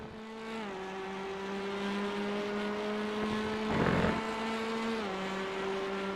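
A race car engine at Silverstone in a racing sim drones steadily at high, even revs, shifting pitch slightly a couple of times, with a brief rougher burst midway and no talk.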